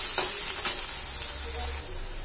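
Chopped onions fry in a pan for an egg curry, giving a steady, close hiss and sizzle with a few soft stirring scrapes, without any talking.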